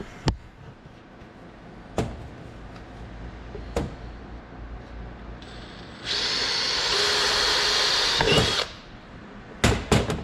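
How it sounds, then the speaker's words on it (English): A power drill with a 1/8 inch bit whirs steadily for a couple of seconds, boring a small hole in a stock YFZ450 ATV airbox, with sharp clicks and knocks before and after. "So we'll drill this to an 1/8 inch"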